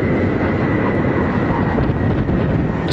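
Continuous broadband roar of Space Shuttle Discovery rolling out on runway 15 at Kennedy Space Center after landing in the Orbiter simulator game, a steady, loud rumble with no voices.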